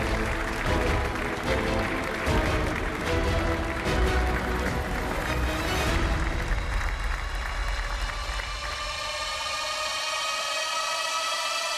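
Studio audience on a Portuguese game show applauds two contestants, with dense, loud clapping that gives way to music rising over the last few seconds.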